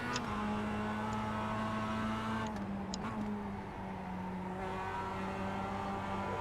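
A production race car in the iRacing simulator at Oulton holds a loud, steady engine drone with a sustained harmonic tone, a brief shift blip mid-way, then the pitch settles lower as the car downshifts for a corner.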